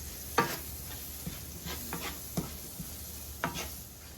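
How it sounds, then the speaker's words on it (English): Cherry tomatoes are stirred into a coconut curry salmon in a pan: a soft steady sizzle with several scraping stirs and a few sharper knocks of the utensil, close by, with no talking. "Next I'm going in with some cherry tomatoes."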